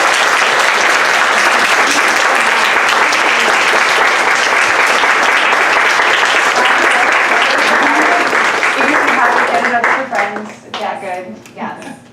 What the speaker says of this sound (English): Well, can we give Zakiya one more round of applause?